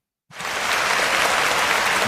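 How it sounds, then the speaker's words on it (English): A round of applause bursts in abruptly after a moment of silence and carries on as a dense, even wash of clapping for the remaining couple of seconds. "giving out rounds of applause today because this is huge"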